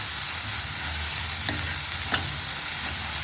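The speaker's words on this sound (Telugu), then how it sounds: "ఇది కూడా వేగనివ్వాలి." Grated medium-sized cabbage fries in a pan with a steady soft sizzle, broken by two brief scraping stirs of a spoon.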